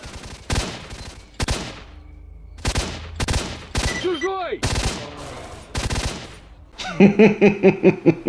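Loud, close gunfire in the S.T.A.L.K.E.R.: Shadow of Chernobyl video game, several separate heavy shots followed by a rapid automatic burst at the end.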